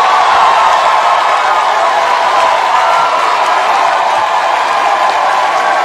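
A crowd at a rap battle between Jerry Springer and Ricki Lake cheers and applauds for the winner, a steady dense roar of voices and clapping that holds at full loudness without a break.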